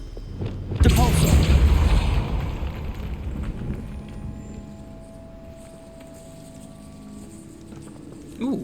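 Depulso spell cast in Hogwarts Legacy, a sudden loud booming burst followed by crackling, pattering debris that fades into a quieter ambient rumble.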